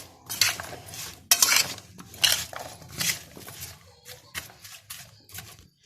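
Spoon clinking and scraping against a pot while stirring okra with paprika and salt in a clay tagine, several bursts of metallic rattling with brief pauses between, close and fairly loud.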